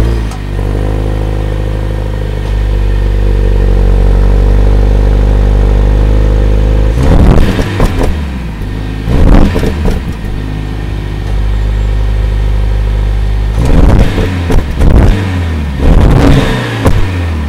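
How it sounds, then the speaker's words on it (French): The four-cylinder engine of a 2020 Mercedes-AMG A45 S idles steadily, then revs sharply several times in loud, separated bursts, close by and with no voices. "je vais essayer, si possible, de vous faire écouter la sonorité du 4 cylindres"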